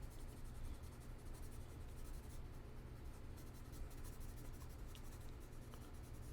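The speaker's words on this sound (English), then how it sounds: "Using still the side of the pencil." Graphite pencil, held on its side, sketching a mountain landscape on paper with circular strokes, giving a steady, close, dry scratching and rubbing that runs without pause and no talk.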